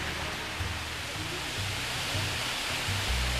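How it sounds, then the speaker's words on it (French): Mountain waterfalls and running streams along an Alpine trail near Saint-André-les-Alpes make a steady, dense rushing roar that stays constant throughout, with no voices. "Nous montons par le sentier des Îles et les cascades et leur ruissellement"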